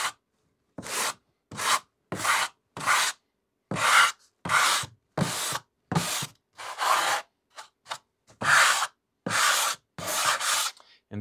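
A sanding block rubs across balsa wood for a model RC plane wing, a steady series of about twenty short, dry scraping strokes in even rhythm, close and clear with no talk.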